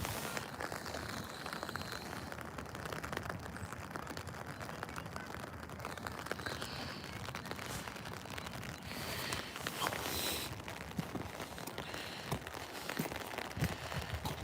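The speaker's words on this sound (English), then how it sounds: "We're getting light to moderate rain right now." A constant, fine hiss of light to moderate cold rain falling and pattering on hard surfaces and roads, steady and moderately soft, with no voices.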